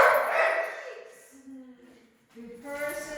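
A dog barks, yips and whines in an excited, uneven run indoors, mixed with people's voices.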